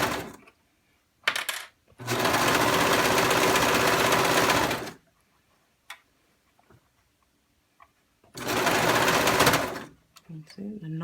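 A serger overlocks a seam on a V-neck shirt with two bursts of rapid, even whirring, each lasting about three seconds, separated by quiet handling clicks.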